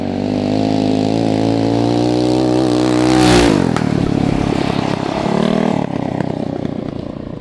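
A 30 HP big-bore Tillotson off-road mini bike revs hard as it accelerates, its engine note climbing steadily before dropping sharply as it passes, then rough, uneven engine clatter continues close by.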